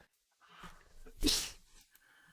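A single sharp sneeze bursts out after a quiet intake of breath, close and brief, followed by a softer exhale, during a game development livestream.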